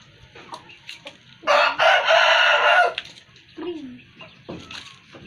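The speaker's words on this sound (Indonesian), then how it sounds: "Aku juga mempunyai ayam." Farm chickens cluck in short scattered calls while a rooster lets out one loud, drawn-out crow in the middle, all close by in a quiet backyard setting.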